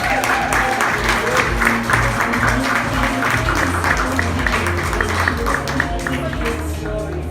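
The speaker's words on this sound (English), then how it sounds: "I want you to give tons of huge round of applause, a million claps, please" A comedy-show audience claps and cheers for a comedian, producing steady, dense applause that fills the room for several seconds without letting up.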